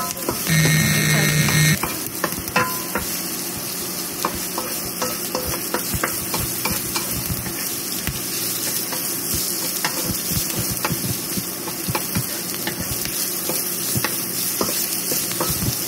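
Onions fried in oil in a pan, a continuous close sizzle with frequent clicking and scraping of a utensil stirring against the pan, loud and alone with no talk.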